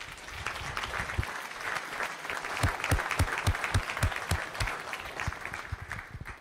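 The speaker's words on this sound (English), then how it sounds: "I want to have a hand of applause for Dominion" A breakfast-meeting audience gives a hand for Dominion, a fairly close crowd of clappers whose individual sharp claps stand out in an uneven rhythm, swelling and then thinning toward the end.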